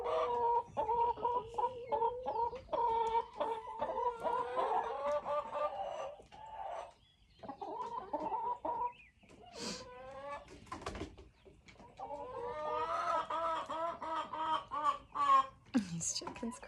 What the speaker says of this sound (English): These chickens crack me up.